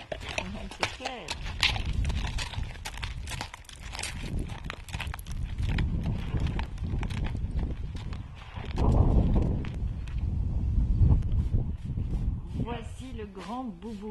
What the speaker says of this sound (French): Ça, c'est un bon cheval, ça.